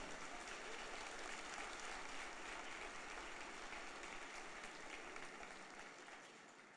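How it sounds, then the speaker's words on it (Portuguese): A church congregation claps steadily for several seconds during a sermon, a dense, even wash of applause that stays loud before easing off slightly near the end. "Pode aplaudir, vai aplaudir, aplauda ao Senhor mesmo."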